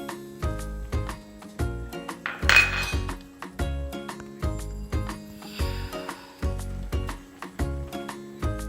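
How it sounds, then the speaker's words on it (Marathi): A spoon scrapes and clinks against a pan as milk powder is stirred into carrot halwa, with rhythmic metallic knocks repeating about every half second, close and clear. "मिल्क पावडर टाकून छान मिक्स करून घेऊया आपण."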